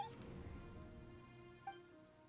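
Rain falls in Genshin Impact, a soft continuous patter and hiss with a faint steady drone underneath and one small bump near the end, quiet and even throughout.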